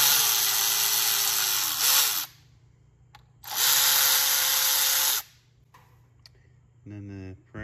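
A power tool buzzes in two steady bursts of about two seconds each, its pitch shifting slightly as it backs out the bolts around the valve cover on a Chevy Cruze engine, followed by a brief ratcheting rattle.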